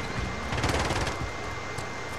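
Call of Duty gunshots heard as a muffled, rapid stream of shots at a distance, steady and fairly faint, with no talk over them.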